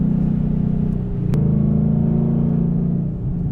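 A deep, rumbling Ford Mustang Boss 302 V8 engine revs up close by, its bellowing exhaust note rising and holding, with a brief sharp crackle in the middle.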